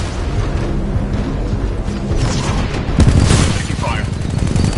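Titanfall 2 combat gunfire, rapid automatic bursts and heavy booms, loud and close, building to a dense volley with game voices mixed in.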